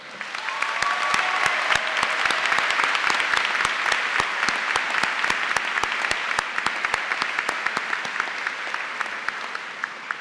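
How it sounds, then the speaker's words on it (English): Sustained audience applause at a high school commencement ceremony, a dense wash of many hands clapping continuously throughout, with sharp individual claps standing out and faint crowd murmur beneath. "Graduates and guests, please join me in a round of applause."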